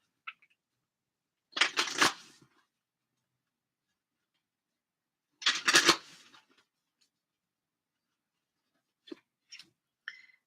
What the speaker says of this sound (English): I want to pick some cards from the Gateway of Light activation